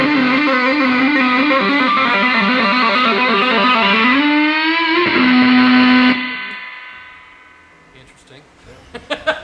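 An overdriven electric guitar with a single neck pickup rings out in a thick, distorted sustained chord that bends and wavers, then cuts off and fades into buzzing noise with a few faint plucks.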